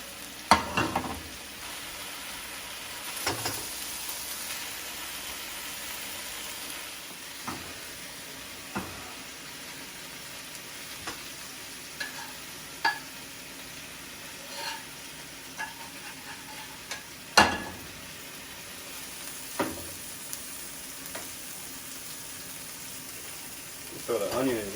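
Food fries and spatters in a covered pan, a soft continuous sizzle with scattered sharp pops and occasional louder knocks of the lid and utensils, fairly quiet and without speech.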